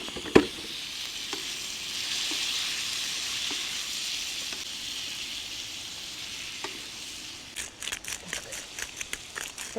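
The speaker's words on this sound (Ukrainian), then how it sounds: "Цибуля у нас підрум'янилась і додаємо решту овочів" Onion and other vegetables for shakshuka frying in a pan, a soft, even sizzle with a few faint clicks, ending in a burst of louder stirring and scraping.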